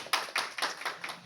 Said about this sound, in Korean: 윤범기 기자님께 다시 한번 큰 박수 좀